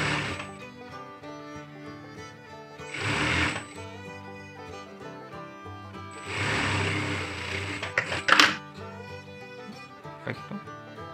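A sewing machine stitches thin baseball shirt fabric in two longer runs of rapid mechanical whirring, separated by quieter pauses, close up, with a few sharp clicks toward the end.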